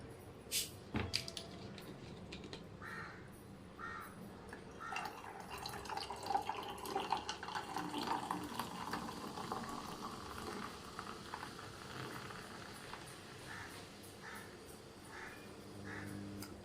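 Soda poured into a pomegranate and orange mocktail, giving a quiet, sustained fizzing crackle with small drips and clinks that rise and fall over the stretch.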